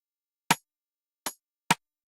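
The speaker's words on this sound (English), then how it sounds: "we're just combining these two rim shots." Two layered rim shot samples in an FL Studio Afro swing drum pattern, three crisp, isolated clicks sounding with a syncopated gap, each hit short and bright with a quick decay.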